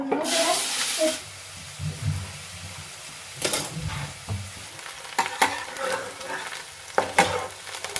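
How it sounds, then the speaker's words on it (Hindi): Hot mustard oil sizzling in a pan as onions go in, a loud burst of frying at the start that quickly settles, followed by quieter crackles and intermittent stirring scrapes. "तो पैन हमारा गर्म हो गया है, तेल डाल देते हैं।"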